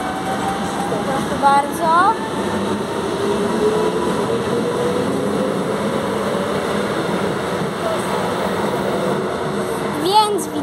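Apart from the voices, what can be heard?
train departing from a platform in Gdynia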